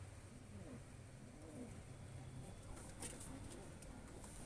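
Domestic pigeons coo softly in low, rolling calls repeated a few times, faint against a steady background hum.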